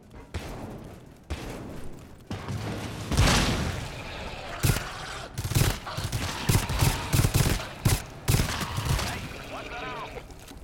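Shooter-game weapons fire in scattered bursts and single cracks over roughly ten seconds, some punchy and close, interleaved with players talking.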